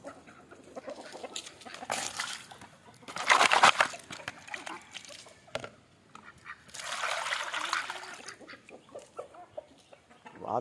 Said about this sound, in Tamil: சரி ஒரு டப்பாவில் தண்ணியும் பிடிச்சி வச்சுருவோம்.